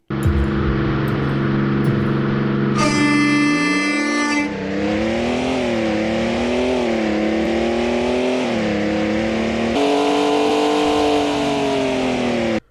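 BMW 1M in the Roblox video game Greenville drives with a loud synthetic engine drone that climbs and wavers as it revs through gears, steady and close, with a brief horn-like tone early on.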